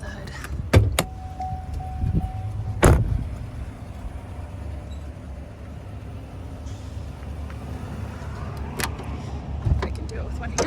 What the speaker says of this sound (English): So it's running. Let's go over and hear the motor.